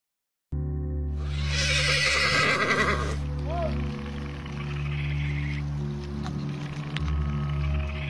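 A horse being ridden neighs with a shrill, wavering whinny for a couple of seconds over a steady low droning background, and a voice is also heard.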